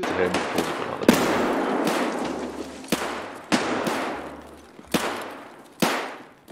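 Gunfire in the shooter game Escape from Tarkov: several sharp, loud shots spaced about a second apart, each trailing off in an echoing decay.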